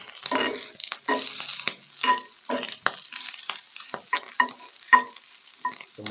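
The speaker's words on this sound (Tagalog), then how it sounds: "Tumatalsik yung mantika." Hot oil crackles and spits in irregular bursts while sisig fries in a pan, a close series of sharp pops and short sizzles with brief quiet gaps.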